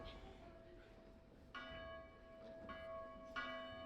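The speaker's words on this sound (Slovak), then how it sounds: "požiarny zvon" A fire bell rings several times at spaced intervals, each stroke leaving a lingering metallic hum over a faint background, during an amateur stage play.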